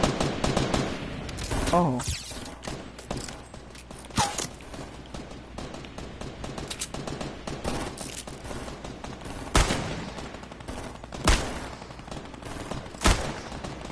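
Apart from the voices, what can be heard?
gunfire in a video game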